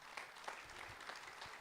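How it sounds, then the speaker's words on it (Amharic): A church congregation claps together during a sermon, a faint, steady patter of many hands that lasts briefly and stays at a distance. "ትሰማላችሁ? እስቲ አጨብጭቡ።"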